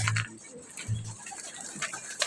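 Pigeons coo nearby before being fed, giving a few low, soft coos in short bursts with quiet rustling and faint background noise between them.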